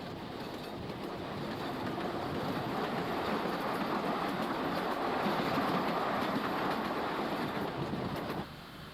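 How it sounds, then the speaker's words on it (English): A train rumbles steadily along the rails on the outskirts of Amman with a continuous rolling roar, building slightly, then dropping off abruptly near the end. "As the train enters the outskirts of Amman, it passes various dump locomotives."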